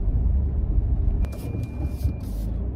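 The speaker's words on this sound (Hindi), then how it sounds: "इस गाड़ी को ऑफ रोडिंग पे चला रहे हैं" A Tata Punch AMT car drives off-road over potholes, giving a steady loud low rumble of engine and tyres with a few thumps from the suspension.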